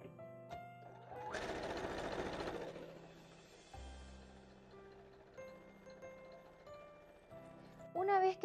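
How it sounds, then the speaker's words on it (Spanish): A sewing machine stitches fabric pieces together with a steady whirring run lasting a couple of seconds, quiet and close, while someone speaks Spanish around it. "Vamos a ir a la máquina y vamos a coser aquí y vamos a coser aquí."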